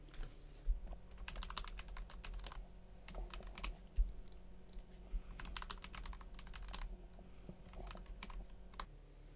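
Someone types a new password on a computer keyboard: quiet, irregular bursts of keystroke clicks with occasional heavier taps, continuing for about nine seconds with no voices.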